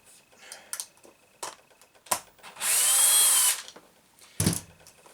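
Cordless power tool whirring for about a second while a wheel comes off an Arrma Granite RC car, set among scattered clicks and plastic handling knocks, with no voice over it.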